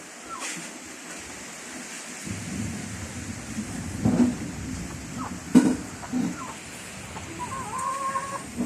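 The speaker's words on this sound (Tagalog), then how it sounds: "Yan, may manok." A chicken clucks intermittently in the middle distance over a steady wash of rain, with a few sharp calls standing out near the end.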